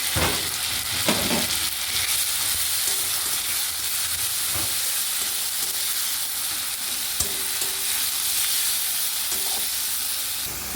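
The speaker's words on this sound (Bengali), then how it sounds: "ভালো করে মশলাটা কষিয়ে নিলাম" Curry spices frying with ginger paste and chopped tomato hiss in a steady, loud sizzle, punctuated by occasional scraping stirs and utensil knocks, with no one speaking.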